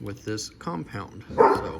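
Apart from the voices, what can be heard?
dogs barking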